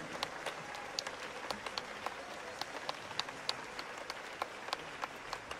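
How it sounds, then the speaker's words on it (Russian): Spectators at a professional Latin dance competition applaud after a paso doble, a fairly distant crowd clapping with some sharper individual claps standing out in a loose rhythm. "Ваши аплодисменты, уважаемые зрители!"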